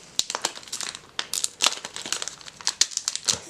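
A Star Wars Destiny Empire at War booster pack wrapper is torn open in a quick series of sharp crinkles and rustles, close and fairly quiet, with no talk.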